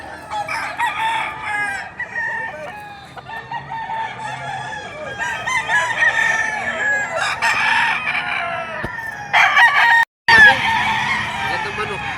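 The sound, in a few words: rooster crowing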